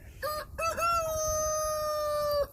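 A rooster crows once, close and loud, a long drawn-out call that holds steady before tapering off, with a flock of chickens outside in a farmyard.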